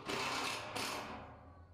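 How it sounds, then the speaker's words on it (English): A driver sinks small screws into a wooden raised-bed planter built from reclaimed materials, a short close whir of under two seconds with a brief dip midway before it winds down. "finish driving in the smaller screws."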